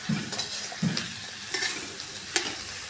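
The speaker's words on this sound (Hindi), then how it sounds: "अब हमने करेला रख दिए कढ़ाई में प्याज के साथ में" Steady sizzling of bitter gourd and onion frying in a wok, with a few scraping stirs and clinks of a utensil against metal.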